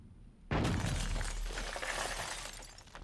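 Glass shattering in the video game Constantine: a sudden loud crash breaks out of near silence, followed by a long crackling spray of falling shards that slowly fades.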